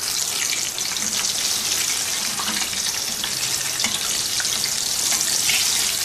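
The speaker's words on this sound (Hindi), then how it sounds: "लो मीडियम रखेंगे फ्लेम अपना और चिकन के 3-3 पीसेस डाल के इसको फ्राई करेंगे।" Chicken pieces deep frying in hot oil over a low-medium flame, a steady, dense crackling sizzle that holds evenly throughout with no talking.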